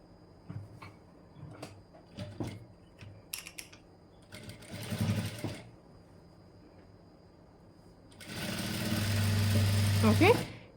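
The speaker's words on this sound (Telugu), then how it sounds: "సో ఇప్పుడు సేమ్ ఇదే లైన్ పైన మనం స్టిచ్చింగ్ అనేది వేసేసుకుందాం." A sewing machine stitching a blouse along the cutting line, a short burst of close, buzzing stitching near the end, after scattered handling clicks and a brief earlier run.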